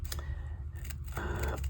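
Scissors snip through twill fabric in a few short crisp cuts, close and fairly loud, with a low steady hum underneath.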